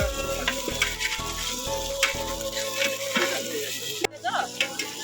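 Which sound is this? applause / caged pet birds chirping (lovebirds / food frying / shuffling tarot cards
food frying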